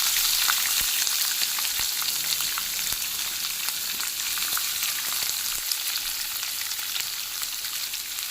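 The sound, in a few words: peanuts, onion and green chilli frying in a kadai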